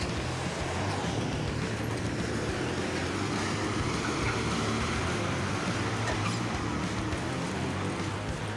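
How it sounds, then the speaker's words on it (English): Heavy low rumble of a loaded log truck grinding along a deep-mud forest road, a steady dense roar that holds unbroken from start to finish with no voices. "the roaring engines shatter the silence of the forest"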